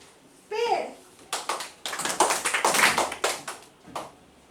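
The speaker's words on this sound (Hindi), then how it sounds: "सब में आप लोग तो सब में ताली बजा रहे हैं" Children in a classroom game clap their hands in quick, uneven bursts, several claps close together and fairly loud, with a voice briefly heard before the clapping begins.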